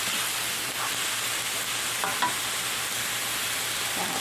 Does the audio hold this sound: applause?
no